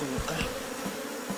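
A continuous low drone rises from many honey bees crowded into a hive's honey super, heard up close, with occasional sharper buzzes from single bees flying past.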